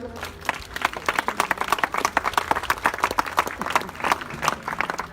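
An audience at a club sports match applauds two of the club's players, sharp individual claps clearly distinguishable within a moderately sized crowd, steady and lively throughout.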